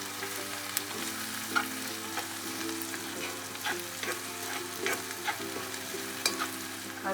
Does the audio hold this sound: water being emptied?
no